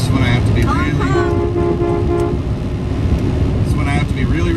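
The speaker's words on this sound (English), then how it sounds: "honking his truck horns for them" Truck horns honking on a drive toward Monroe, Washington, with loud toots over a constant road and engine roar, as a voice talks throughout.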